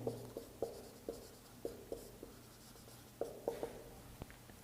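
Chalk writes on a board during a math lesson, a series of crisp taps and short scrapes in an irregular rhythm against a quiet room hum.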